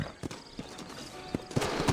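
Horses in the western video game Red Dead Redemption clop on the ground in a loose, irregular rhythm of close hoof knocks, with a faint whinny and ambient game background.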